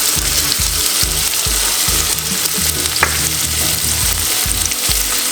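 Spring onion frying in a pan gives a loud, continuous sizzle, with regular rhythmic scraping and stirring knocks from a utensil running throughout.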